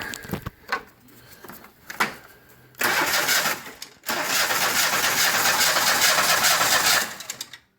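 A car engine with its spark plugs removed is cranked over by a remote starter switch, first a few short clicks, then two long loud steady whirring cranking runs, close by with no talking.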